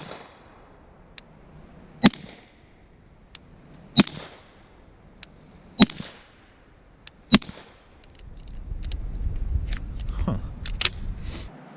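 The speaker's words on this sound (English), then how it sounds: "These 5 are Magtech 147 grain subsonic." Five 9mm Magtech 147 grain subsonic rounds fired outdoors, sharp cracks spaced about two seconds apart, each trailed by a short echo, with a low rumble of background noise building near the end.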